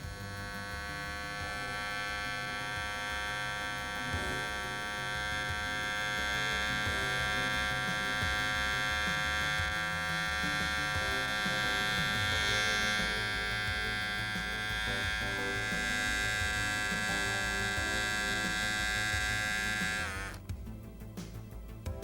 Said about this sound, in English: Use a trimmer to clean up the neck.